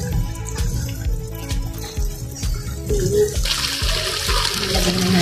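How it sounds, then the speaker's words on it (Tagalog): Coconut milk pours into a pot of laing, taro leaves cooking, giving a steady liquid splashing and gurgling close by that builds toward a fuller, brighter pour near the end, with no talking. "Lagyan na natin yung ating batang gata."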